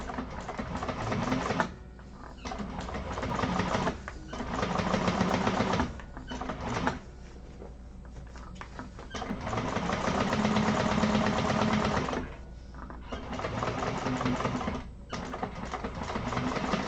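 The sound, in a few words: sewing machine stitching handbag lining panels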